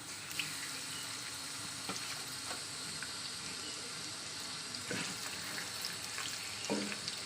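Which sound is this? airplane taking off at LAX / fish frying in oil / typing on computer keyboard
fish frying in oil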